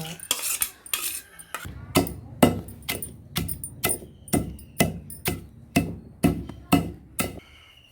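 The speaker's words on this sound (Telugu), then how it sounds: "కల్లుప్పు వేసుకొని దంచుకుంటున్నా" Rock salt pounded in a mortar while making curry leaf powder, as a steady run of about fifteen sharp, close thuds in an even rhythm, with no talking.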